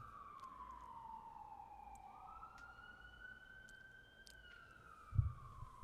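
A siren wailing outside, a faint distant sweeping tone rising and falling slowly, with a brief low thump near the end.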